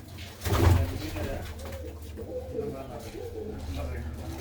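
Domestic flying pigeons coo softly in a loft, a low throaty burst followed by quieter continuing coos and rustling, with someone speaking nearby.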